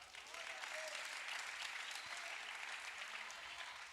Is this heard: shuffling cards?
no